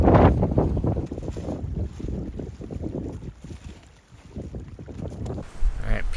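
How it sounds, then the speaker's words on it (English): Strong wind buffets a tent at a Pacific Crest Trail camp, a constant low roar and rush that swells and eases, with fabric flapping close by and a voice faintly present at moments. "It's really windy outside, so we are in the tent tonight."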